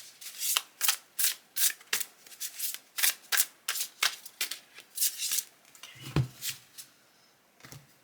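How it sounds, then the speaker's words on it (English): Oracle cards shuffled in repeated quick riffles, about a dozen crisp papery bursts in steady rhythm, close and clear, ending with a few softer taps as the deck settles. "so a few more shuffles while you're focusing, breathing."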